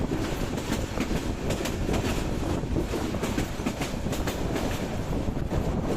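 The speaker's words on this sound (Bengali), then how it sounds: "ট্রেনের কামরার ঝিকঝিক শব্দের বাইরে আর কোনো শব্দ নেই" A passenger train carriage clattering over the rails at dawn on the way to Sylhet, a steady close rumble with a rhythmic clickety-clack running throughout and no voices.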